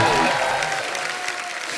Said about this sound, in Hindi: जोरदार तालियां हो जाए बाबा।